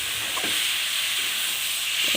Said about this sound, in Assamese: নাৰিকল ভাজি আছোঁ, নাৰিকলৰ পিঠা বনাম।